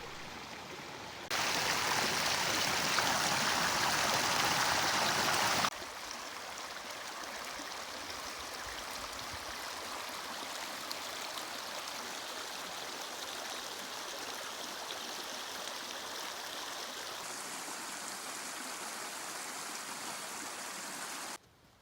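Steady rushing of Riley Creek, a mountain creek flowing over rocks, continuous and fairly close, with a louder surge early on before settling into an even flow.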